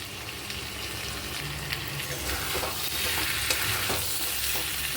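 Pumpkin and potatoes frying with prawns and masala in a pan, a steady broad sizzle with soft scraping stir noises running throughout, close and moderately loud, no voices.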